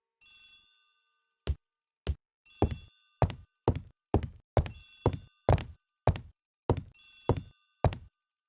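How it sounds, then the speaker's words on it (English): Old-style telephone bell ringing in a hall in a video game, with a long series of loud, sharp bell bursts at an irregular rhythm, each cut off abruptly, alone with no talk. "The telephone in the hall is ringing."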